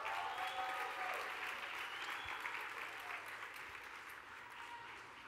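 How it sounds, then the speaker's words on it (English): Steady, dense applause from a conference audience welcoming a leadership panel to the stage, an even roar of many hands at a moderate distance, slowly easing in the last seconds. "Give these guys a round of applause."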